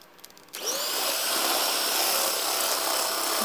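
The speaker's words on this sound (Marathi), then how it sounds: "मैदा घातल्यानंतर पुन्हा आपण एक बीटरने छानपैकी फेटून घ्यायचं आहे हे मिश्रण" An electric beater whirs into life after a short moment of quiet, then runs at a steady high-pitched drone, whisking cake batter with flour close by.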